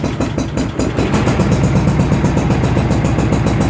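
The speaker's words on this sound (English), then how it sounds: "So let's push the clutch in and see if this thing will fire up." A Yard-Man lawn tractor engine, cold-started with the choke on, chugs unevenly at first and then settles into a loud, steady, close-up running drone.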